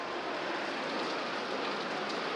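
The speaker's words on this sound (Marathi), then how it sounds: "आता पाऊस पडलेला आहे" Steady rain falls in a continuous, even hiss, with no voices or other sounds breaking through.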